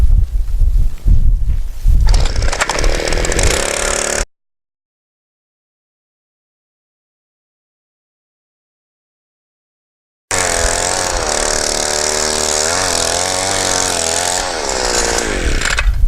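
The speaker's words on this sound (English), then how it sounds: "I may as well go ahead and till up the watermelon and pumpkin bed too" A small engine-driven garden tiller churns a watermelon and pumpkin bed, roaring loudly and close. The sound drops out completely for several seconds, then the engine returns with its pitch wavering as it works the soil.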